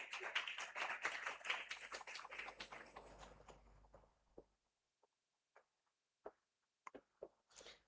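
Applause from a conference audience welcoming a speaker, a dense patter of many hands for about four seconds that then fades into scattered, isolated late claps in a quiet room.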